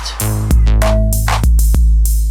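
Deep booming electronic bass drum tones from a drum machine's 808 kit preset sustain under crisp programmed clicks and hits, forming a loud, dense pattern.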